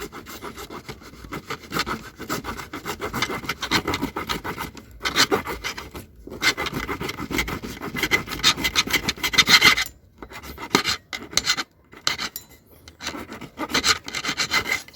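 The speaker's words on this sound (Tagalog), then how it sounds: "Saka mo na siya ngayon kikinisin ng liha." Steady rasping of sandpaper rubbing back and forth, in rhythmic strokes with short pauses, close by and fairly loud, no voices.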